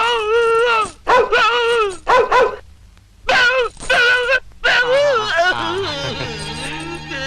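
A man imitates a dog barking, voicing a string of loud, close, whining yelps and howl-like barks in short bursts separated by brief pauses.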